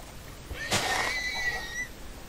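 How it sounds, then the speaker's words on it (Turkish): A horse in the video game Minecraft lets out a short whinny as it is struck and killed, a single brief cry over quiet background noise. "Şu atları da keseyim ya."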